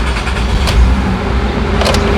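A 2006 Honda Odyssey engine turns over and runs after being started with a newly programmed key, a steady close car-engine rumble filling the short stretch with no talking.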